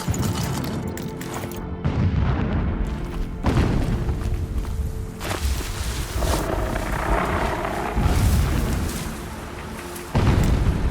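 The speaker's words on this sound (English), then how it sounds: "Explosions in the distance." Distant explosions in the video game Horizon Zero Dawn, a series of heavy rumbling booms rolling one after another, loud and continuous with several sharper blasts throughout.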